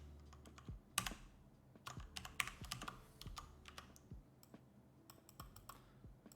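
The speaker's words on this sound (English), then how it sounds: "I have a mechanical keyboard, I'm sorry." Clicky mechanical keyboard typing up close, irregular bursts of sharp keystrokes with brief pauses between runs, no talking over it.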